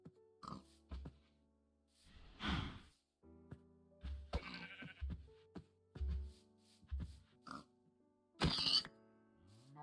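Minecraft animals grunt and bleat in short, scattered calls, pig oinks mixed with sheep bleats, fairly quiet, over a low game background with no talking.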